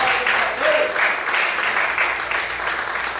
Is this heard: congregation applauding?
yes